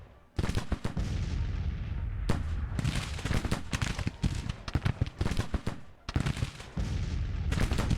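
Artillery batteries fire in a Civil War strategy game, Grand Tactician, a steady barrage of loud booms and cracking volleys overlapping densely, with brief lulls near the two- and six-second marks before the firing resumes.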